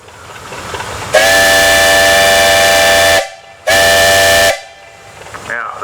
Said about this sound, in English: this is the whistle that went on for come to work